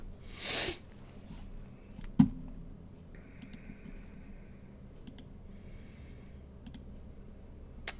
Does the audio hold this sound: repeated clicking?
yes